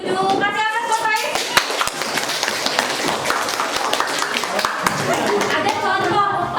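Children clap in a classroom in an uneven, fairly loud burst of applause. Voices talk at the start and at the end.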